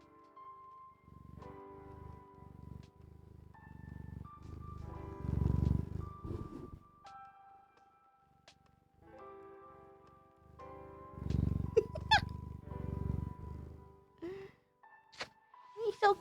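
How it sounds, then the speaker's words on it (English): Sandals, a house cat, gives off a low, throaty purr in rumbling bursts up close, with music playing throughout and a few soft knocks near the end. "you might be able to hear Sandals purr better"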